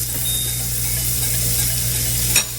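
Butter sizzles steadily in a hot skillet used for black bean burgers, a close, even hiss with a soft clink of utensil near the end.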